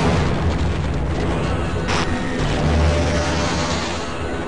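Grenade blasts in a first-person video game set in a confined underwater space: a dense, continuous low rumble of booms with one sharper burst near the middle, loud throughout and with no talking.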